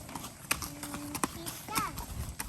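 Horse hooves clip-clop at an Arabian horse farm during a ride, a few scattered, moderately close knocks over faint background, while people talk softly and a horse briefly neighs.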